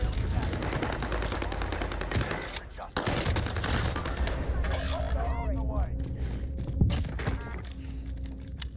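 Rapid machine gun fire in the Warzone battle royale game, dense bursts running through most of the stretch alongside other game effects, with a voice talking over it at times.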